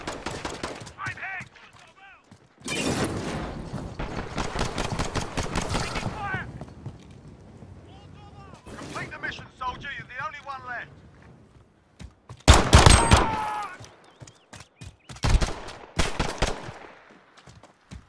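Rapid automatic gunfire and single shots crack through a Call of Duty Modern Warfare 2v2 match, in loud bursts and scattered bangs, mixed with in-game voices talking.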